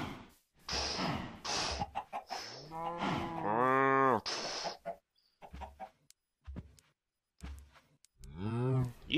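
Cows in a survival video game moo loudly and close by, several long drawn-out calls in a row, with chicken clucks mixed in.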